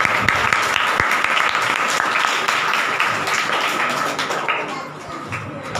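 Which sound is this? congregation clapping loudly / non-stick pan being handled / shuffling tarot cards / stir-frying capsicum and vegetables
congregation clapping loudly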